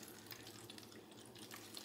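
Water from a container is poured into a pouch of freeze-dried lasagna, a steady soft splashing and trickling that stays close and continuous for a couple of seconds, with no voices.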